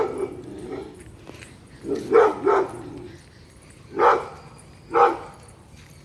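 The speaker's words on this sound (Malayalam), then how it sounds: "സ്കൂബി ഭയങ്കര കുര കേട്ടോ ഞങ്ങൾ ഇറങ്ങിയപ്പോൾ" A dog barks several times in short, spaced bursts, fairly close, with quiet pauses between barks.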